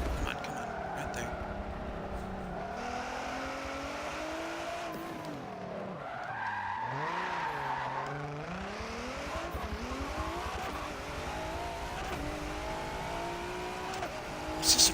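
Engine drone of a V6 Le Mans race car in a video game, with a steady revving tone, pitch dips and rises and a brief skid near the middle, under a voice speaking quietly throughout.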